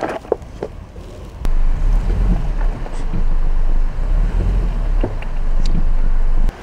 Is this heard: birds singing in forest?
no